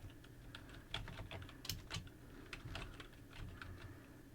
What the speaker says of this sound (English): I'm going to type about:config.